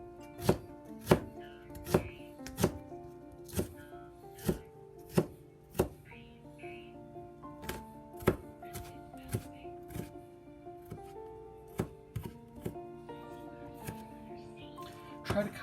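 A knife slices ginger as thin as possible on a board. The sharp chops fall about one per second, sometimes in quicker pairs, loud and close over a quiet background.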